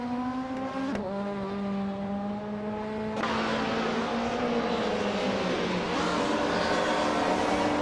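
A 1996 Alfa Romeo 155 Ti V6 race car in a racing video game drones at high revs with a steady tonal whine that shifts gear once and grows rougher and louder, with other cars' engines blending in.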